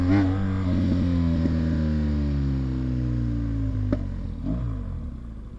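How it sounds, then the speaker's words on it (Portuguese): A motorcycle passes on a street beside a BMW, its engine droning loudly up close and then slowly dropping in pitch as it moves away, with a brief clatter near the end. "Esperar essa moto passar aí."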